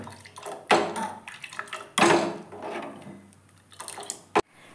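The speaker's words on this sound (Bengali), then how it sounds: "এবার এটাকে ভালো করে নেড়ে নেড়ে জাল দেব।" Milk mixed with powdered milk heating in a pan while being stirred, with liquid swishing and sloshing in bursts, occasional spoon scrapes against the pan and a sharp knock near the end.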